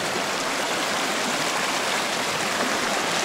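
High water of the Nister river rushing and splashing steadily, a dense, close, continuous flow with no pauses and no voices.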